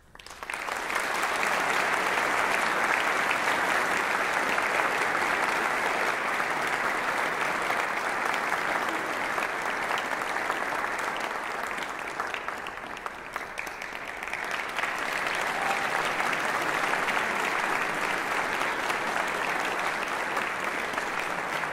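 An audience claps for a high school wind ensemble at the end of an indoor concert, a loud, sustained wash of applause that keeps going for about twenty seconds with only a brief dip midway.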